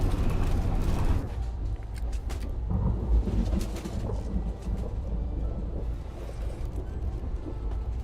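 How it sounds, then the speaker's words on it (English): A stormy mountain in the game Syberia: The World Before gives a constant low rumble of wind and weather, with dull thunder-like swells and faint crackles throughout, with no voices over it. "We are walking up this mountain in a storm."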